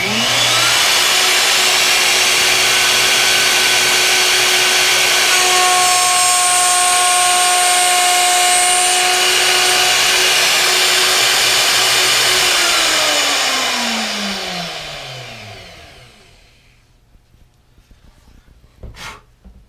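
A Festool OF 1400 plunge router runs at full speed and loud as it cuts half an inch deep into wood, holding a steady whine before spinning down and going quiet near the end.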